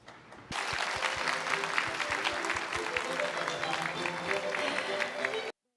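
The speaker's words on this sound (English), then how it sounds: "Once again, a big round of applause." Sustained audience applause fills a business summit hall, a dense wash of many hands clapping that starts abruptly and carries on for about five seconds before cutting off.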